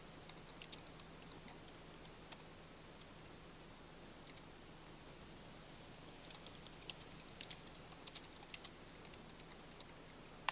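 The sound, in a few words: typing on a computer keyboard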